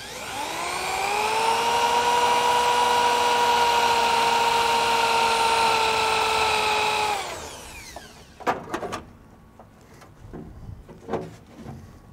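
A power drill bores out spot welds on a 1958 Chevy Delray body panel, a loud steady whine holding for about seven seconds before stopping, followed by scattered clanks and knocks of tools and metal.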